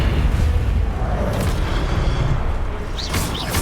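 Incendio fire spell blast in the Hogwarts Legacy video game: a loud, sustained roaring burst that fills the whole clip, with brief whooshing flares near the end.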